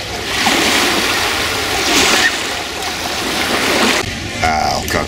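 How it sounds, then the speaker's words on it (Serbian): Sea waves wash in a steady, loud surf roar with swelling surges, and voices are faintly mixed in. "A evo ga more."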